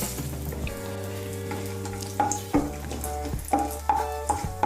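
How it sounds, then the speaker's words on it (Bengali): Bay leaf, three cloves, three cracked cardamom pods and a piece of cinnamon sizzling in hot oil, a steady close crackle with a low hum beneath and a few scraping stirs of a spoon against the pan. "তেলটা গরম হলে এর মধ্যে আমি দিয়ে দিচ্ছি 1টা তেজপাতা, 3টে লবঙ্গ, 3টে এলাচ আর 1 টুকরো দারচিনি।"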